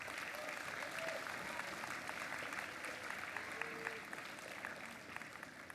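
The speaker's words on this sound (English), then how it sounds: "So let's give them a big round of applause." Sustained clapping from an audience at a robotics state championship opening ceremony, fairly distant and even, continuing for several seconds.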